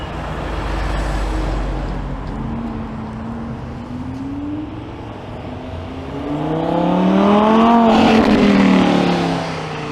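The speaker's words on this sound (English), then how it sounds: "Oh, look at this car pulling up." A car engine rumbles nearby on Yonge Street in Toronto, then revs up with rising pitch as it pulls up and accelerates, growing louder toward the end amid traffic noise.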